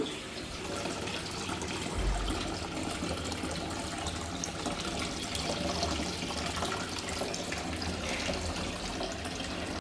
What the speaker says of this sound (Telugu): ఇక్కడ కార్నర్లో ఉన్న వాటర్ ఫౌంటైన్ చూద్దాం